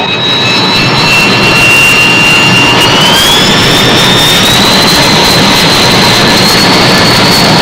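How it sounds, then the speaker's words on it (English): Jet engines on an aircraft carrier deck roar at overwhelming volume, a constant blast with a high whine rising gradually in pitch. "Even with their Mickey Mouse helmets, the jet engine noise is overpowering."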